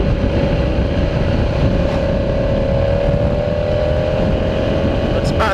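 A 2017 Ducati Scrambler Cafe Racer motorcycle engine drones loudly and steadily while riding at speed, its pitch holding nearly level under a constant rush of wind noise.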